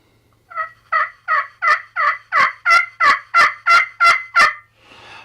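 Tuned slate turkey call worked with a striker after sanding and smoothing, producing a rapid series of about eleven crisp, smooth yelps that build in loudness, followed by a soft scratchy scrape, no talking.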